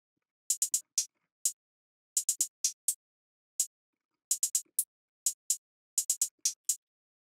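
Sparse trap-style drum pattern of crisp, bright hi-hat ticks, isolated and close, in quick clusters of two to four hits with short gaps, repeating across the bar without other instruments.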